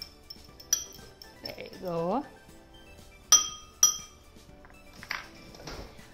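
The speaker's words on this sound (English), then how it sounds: "let's give it a quick stir" A utensil stirs raw egg in a glass bowl, giving scattered bright clinks and taps against the glass under soft talk nearby.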